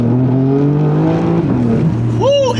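A BMW G82 M4 with an exhaust modification revs, its engine note climbing and falling in a close, loud growl, ending in a sharp rising whine, with a voice briefly over it.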